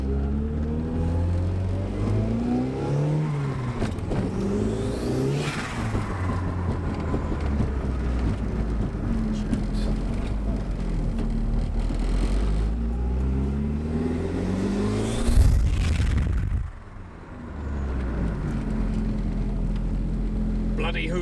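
A Mk2 Ford Fiesta fitted with a Screamer exhaust pipe, driven on the road during a test drive, gives a loud, steady engine drone with rising and falling revs throughout, and a brief surge near the end.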